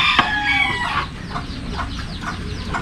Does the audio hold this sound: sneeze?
no